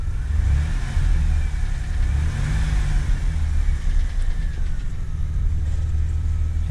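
A 4th-gen Camaro's 3.8L V6 runs close by with a steady low hum and a light, brief rise in engine speed, then settles, with no talking.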